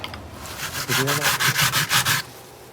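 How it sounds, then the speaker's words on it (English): Hand sandpaper rubbed over the rough edges of a homemade tail light lens for an antique car, about eight quick back-and-forth scratchy strokes in an even rhythm, close and fairly loud, then stopping, with no talking. "maybe we want to sand that a little bit"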